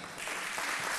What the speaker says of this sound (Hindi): आप सबके लिए बहुत सारी तालियां।